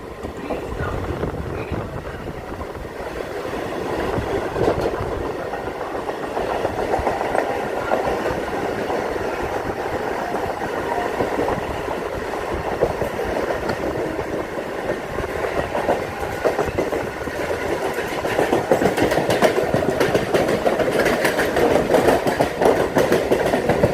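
A Mumbai slow local train running from CSMT to Ghatkopar rumbles and rattles continuously from inside the carriage, with a steady, loud clatter of wheels on track throughout.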